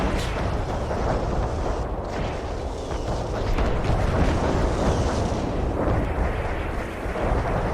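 Airstrike explosions in the game Renegade X roll as a continuous, loud wash of booming blasts and rumble, with overlapping impacts and no clear gaps.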